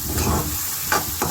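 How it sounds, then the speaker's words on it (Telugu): Chopped green chillies hit hot oil in a pan with a short burst of close, loud sizzling and a couple of quick stirring scrapes, with no talking. "ఇప్పుడు కోసి పెట్టుకున్న పచ్చిమిరపకాయ ముక్కలు వేస్తున్నాను."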